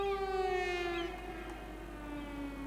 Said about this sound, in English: the sirens are still going off